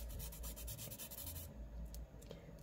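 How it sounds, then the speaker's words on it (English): Faint, steady rubbing from a small sanding stick worked into a groove on a miniature fantasy model, a quiet scratchy scrape repeating close up with no talk. "It's a little stick, sanding stick."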